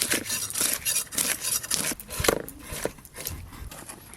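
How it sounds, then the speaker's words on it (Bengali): Scales are scraped off a 1.5 kg desi rohu fish with a series of quick, rough, rhythmic scraping strokes, close and fairly loud, repeating in uneven bursts. "দু পিঠের আঁশই ভালো করে ছাড়িয়ে নেব।"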